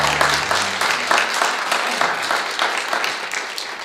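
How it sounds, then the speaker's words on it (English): Audience in a church service applauding together, a steady wash of clapping that starts strong, briefly overlaps a low hum at the start, and gradually thins as it continues. "Okay, you guys can clap at that."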